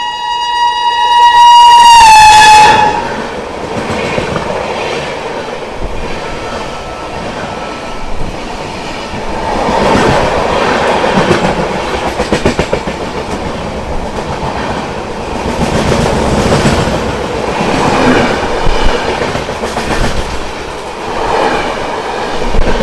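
A train crossing past a halted Sangam Express, opening with a sharp wheel squeal, then a steady loud rumble with rhythmic clickety-clack of wagons rolling by close and continuously.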